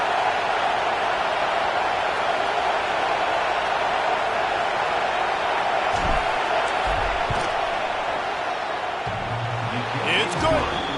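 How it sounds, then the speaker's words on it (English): A stadium crowd in College Football 26 roars steadily as a kicker lines up a fourth-down field goal. The din is a constant broad wash of noise that swells slightly near the end, with a brief voice over it. "This crowd trying to do its part to get inside the kicker's head"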